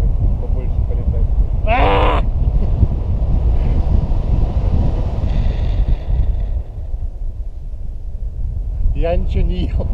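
Strong mountain wind roars and buffets the microphone continuously and loudly, with brief bits of talking near the start and end.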